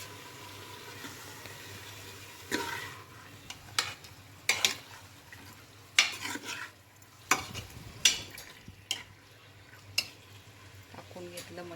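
Goat mutton goes into a hot pan and fries, a low sizzle under repeated scraping and stirring clatters against the cookware, the sharper knocks spaced a second or two apart.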